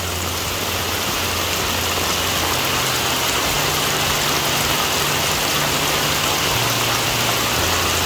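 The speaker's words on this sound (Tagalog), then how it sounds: "pag maulan, malakas yung ulan, ganito din talaga yung mangyayari sa Hardin lagi" Heavy rain pours down on a flooded garden, a loud dense hiss that continues unbroken, with a faint low engine hum beneath it.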